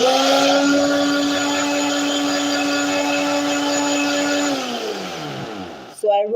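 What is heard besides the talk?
blender grinding dry coconut into flour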